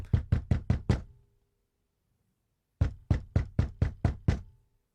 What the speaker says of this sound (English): a knock on the door.